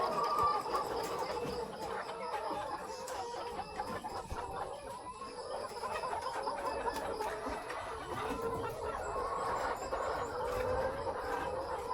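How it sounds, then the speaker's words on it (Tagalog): Native chickens cluck and murmur continuously inside a poultry house, a busy mix of overlapping calls at moderate distance, with steady background noise and no speech. "yan na naman yung mga native na manok"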